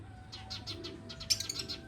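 Soft, repeated whistling notes from pigeons, a short series of airy tones close by, with a faint background hum.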